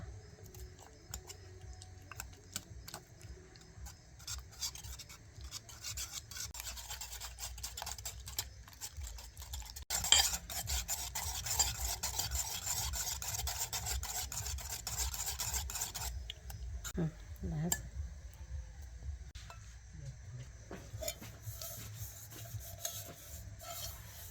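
Banana stem being ground into a paste on a stone, a long stretch of rough, rhythmic rubbing and rasping strokes, close but soft, with occasional knocks and no voices.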